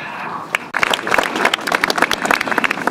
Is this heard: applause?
yes